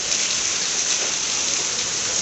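Heavy rain mixed with hail pours down near house stairs in Bharatpur, a dense, steady hiss of pelting drops that fills the whole stretch at close range, with no talk.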